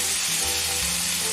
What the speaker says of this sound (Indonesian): Bumbu yang tadi dihaluskan ya, saya tumis.